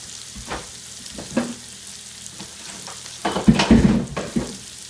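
Garlic dropped into a pan of sizzling bacon and shrimp for a paleo frittata, steady close frying hiss broken by a few stirring scrapes and bursts, louder toward the end.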